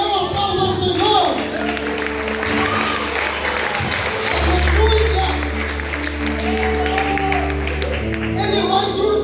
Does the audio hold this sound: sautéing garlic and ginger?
no